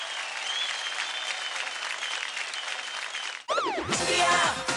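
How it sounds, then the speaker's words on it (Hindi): Studio audience applause on an Indian televised dance competition, a steady bright wash of clapping with a tone sweeping through it, then cutting abruptly into loud show music with whooshing effects near the end. "जोरदार तालियां हो जाए"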